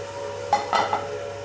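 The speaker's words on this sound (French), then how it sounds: "Et là on déglace au Porto. On laisse réduire." Port wine goes into a hot pan to deglaze it, with a low steady sizzle under a few short scraping clinks of stirring, fairly close and quiet.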